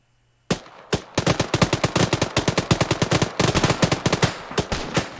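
Video game gunfire during an anti-aircraft training session, a loud, close burst of rapid automatic shots after an opening pair of single shots, firing almost continuously for several seconds with no talk.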